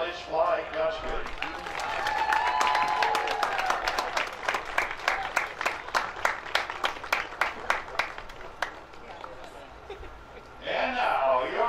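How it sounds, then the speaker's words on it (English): At a 2018 MIAA baseball tournament ceremony, a crowd claps for the Hope College runners-up, with scattered applause building to a loud run of distinct claps that fades, followed by a voice over a public address. "let's give a round of applause to the MIAA tournament runners-up, the Hope College Fly Country"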